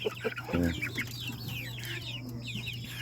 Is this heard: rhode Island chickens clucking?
yes